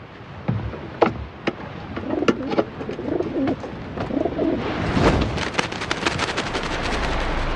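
A pigeon coos in soft, low repeated calls close by, followed by a burst of rapid flapping and fluttering wings as it takes off.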